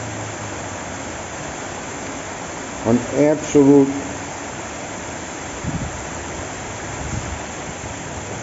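Floodwater from a Christmas Eve rainstorm in Athens, Greece rushes like a river through a neighbourhood street. It makes a constant, dense roar, with someone briefly speaking over it.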